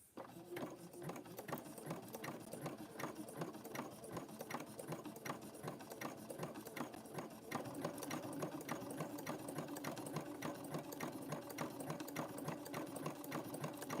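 A sewing machine runs a zigzag stitch through fabric-wrapped rope, its needle pounding in a fast, even mechanical rhythm with a motor hum, steady and close, growing slightly louder partway through.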